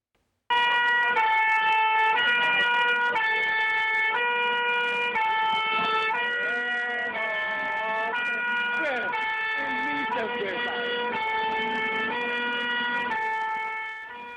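Fire engine sirens wail as firefighters arrive at a blaze in Algeria. The loud two-tone siren repeats steadily for the whole stretch, with the pitch wavering as it rises and falls.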